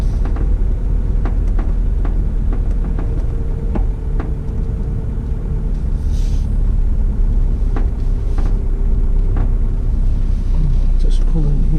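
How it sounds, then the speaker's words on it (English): A car rolls slowly along the driveway of the Australian Stockman's Hall of Fame in outback Longreach, giving a steady, close low engine rumble throughout while a voice talks over it. "I'm just driving through the driveway."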